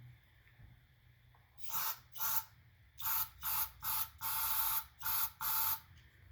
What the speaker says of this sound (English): a can of brake clean's the same as empty, so I'm going to get my new can. Get some force in there.